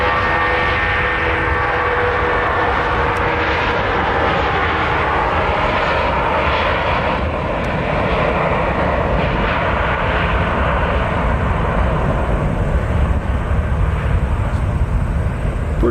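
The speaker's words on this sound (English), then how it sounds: "Here's United A319. Listen to those engines, folks." Jet engines of a United Airlines Airbus A319 at Nashville International Airport, a loud, continuous broadband roar that stays steady and close throughout, with no talking.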